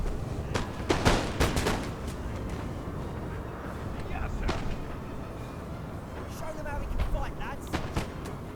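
Ragged volleys of musket fire from Napoleonic infantry in a Total War battle, several sharp cracks bunched near the start and again midway, over a steady background rumble.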